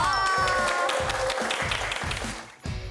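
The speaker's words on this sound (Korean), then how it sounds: "와 박수 한번 주세요" Short burst of audience clapping at a Korean book quiz event among military personnel, with rhythmic beats of music underneath, fairly faint and ending abruptly.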